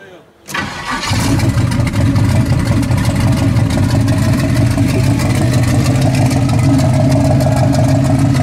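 A freshly built turbo engine fires up after a brief crank and settles into a loud, steady idle around 900 rpm, close and continuous for several seconds.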